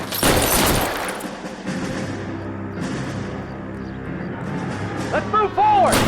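Pistol gunfire in L.A. Noire, a 1947-set crime video game, with a dense burst of shots near the start followed by a busy rumbling game mix, scattered sharp cracks and a voice speaking over it.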